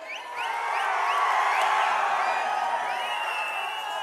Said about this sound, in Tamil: எழுச்சிமிகு ஆரவாரம்